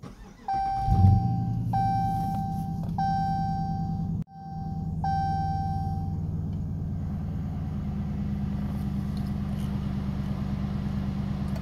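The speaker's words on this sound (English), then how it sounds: "I'm going to have to start the car up" A car engine turns over and settles into a steady running hum, cuts out briefly and then resumes, while a repeating electronic warning chime sounds early on; no one speaks.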